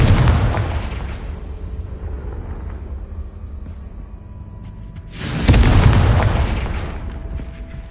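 Bombarda and Confringo spell explosions in the video game Hogwarts Legacy, with a rolling, rumbling boom that decays over several seconds, then a second heavy blast with a long crackling tail.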